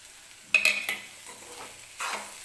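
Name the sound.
stirring cooked okra in pan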